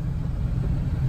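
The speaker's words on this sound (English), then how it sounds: "First time this car is driving out of the garage in" A Mk2 Toyota Supra's engine rumbles low and steady as the car rolls out of a garage, close and continuous with no voices.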